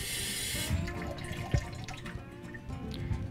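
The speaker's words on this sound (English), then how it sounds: "you can take some warm water, which is less expensive, and fill it up" Warm water runs from a tap into a container, a steady splashing trickle with scattered drips and small knocks, close and moderately quiet.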